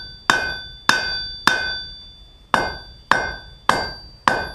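A blacksmith hammers a one-inch-wide, eighth-inch-thick flat bar down to a taper, seven sharp ringing metallic strikes falling in a steady rhythm, each close and loud with a bright ring that decays before the next blow.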